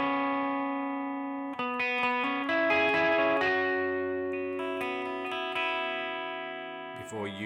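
Electric guitar plays a riff, sustained ringing notes layered with delay and open strings 1 and 2 softly strummed underneath, close and steady without talk.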